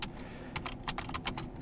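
Rapid keystrokes on a computer keyboard, typed at a Linux terminal: a brisk, uneven run of sharp clicks, close and fairly quiet, with no talking.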